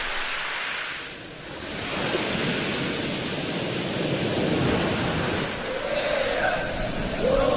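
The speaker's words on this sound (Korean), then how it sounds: "콩처럼 작은 돌들이 파도와 함께 구르는 이곳 콩돌 해변" Waves wash over small bean-sized pebbles at Kongdol beach on Baengnyeongdo island, a dense, hissing rush with rolling, surging swells, steady and fairly loud throughout, with a faint voice briefly audible toward the end.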